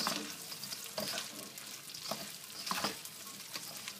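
Garlic prawns fry in a pan with a continuous crackling sizzle, broken by repeated scraping stirs at close range and moderate loudness, with no talking.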